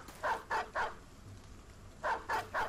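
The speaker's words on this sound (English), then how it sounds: "Three dogs." Dogs barking in the video game Battle Brothers, two close, loud bursts of three quick, evenly spaced barks separated by a short quiet gap.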